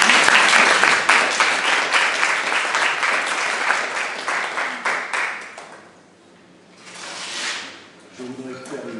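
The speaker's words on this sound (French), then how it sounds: "On peut s'applaudir un peu." Applause at a town council meeting: a room of hands clapping loudly for several seconds, then fading out into quiet, followed by a short burst of noise and a voice at the end.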